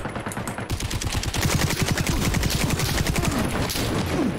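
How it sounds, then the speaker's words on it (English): Rapid automatic gunfire in the shooter game Caliber, a long dense burst of evenly spaced shots rattling continuously for several seconds, loud and close with no talk over it. "who's shooting at me?"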